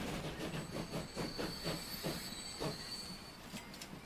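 A train in the Transport Fever game rolls into a station with steady rumbling, rhythmic wheel clatter and a faint high squeal, continuous and moderately loud, with no talking.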